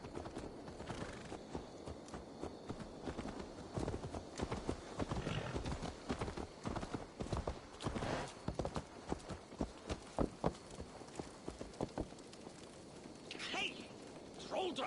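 Horse hooves clip-clop in Assassin's Creed Valhalla, a run of rhythmic hoofbeats at close range with an occasional whinny and game sounds, voices talking now and then over the steps.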